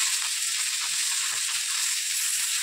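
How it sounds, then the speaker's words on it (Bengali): Fish fries in a little oil in a wok, a steady close hiss and sizzle without pauses or speech. "এখন ভাজা চলছে। মাছটা ভেজে নিই।"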